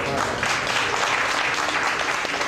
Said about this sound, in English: Let's keep giving them a double round of applause